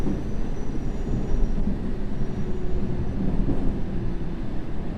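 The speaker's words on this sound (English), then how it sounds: "We just need to wait for a train to come the other way." A London Underground subway train on the Circle Line in World of Subways Vol. 3 rumbles steadily past, with a loud continuous low roar and rail noise throughout and no voices.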